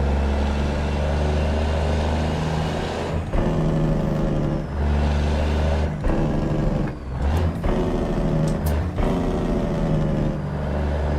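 A Detroit 12-litre truck engine in American Truck Simulator drones steadily and loudly throughout, with a low rumbling tone that shifts slightly as the revs rise and fall, heard alone without talk.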